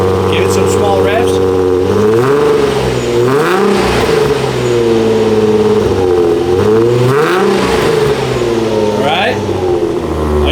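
Nissan 350Z with a custom dual-valved X-pipe exhaust and valves closed, revved in several short blips, the engine note climbing and falling loudly up close, with people talking over it.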